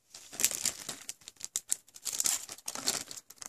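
A collectible can badge slid back into its crinkly plastic packaging, giving close, quiet bursts of rustling and crinkling in short irregular pulses with no one talking.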